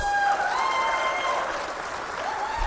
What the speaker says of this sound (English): let us appreciate his gesture with a big round of applause